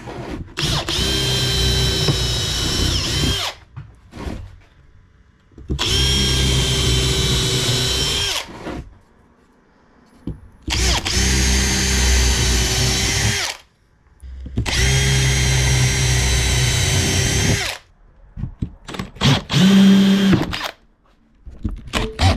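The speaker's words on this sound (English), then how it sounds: "just going to pilot drill this wood" A power drill bores pilot holes in wood in four long, loud, steady whirring bursts separated by short pauses, followed by a brief, choppier final burst.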